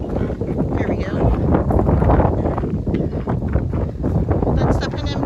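Strong wind buffeting the microphone on top of a mountain in Michigan's Upper Peninsula, a loud continuous roar with gusty swells throughout.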